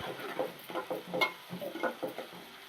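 Onion and coriander fry in a pan with a soft, quiet sizzle, broken by the rhythmic scrape and patter of stirring, with no voices.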